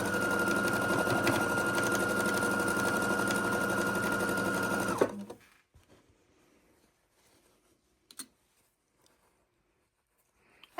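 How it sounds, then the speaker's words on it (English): A sewing machine chain-stitches pairs of quilt patches right sides together, running loud and steady for about five seconds, then stopping abruptly, leaving near-silence broken by a few faint clicks and handling noises. "And we're just chain stitching these, sewing 2 at a time, right sides together"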